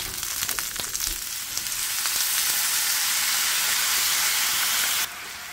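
Japanese barbecue sauce hits a hot pan and fries with a loud, continuous sizzle and hiss that carries on for several seconds, then drops off abruptly near the end.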